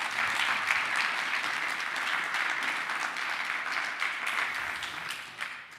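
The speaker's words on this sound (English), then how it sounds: "had also a lot of the last round of applause really for the whole team" A conference audience on a main stage applauds the whole team in dense, steady clapping that holds for several seconds before easing slightly at the end.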